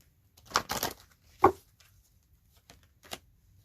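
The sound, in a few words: shuffling cards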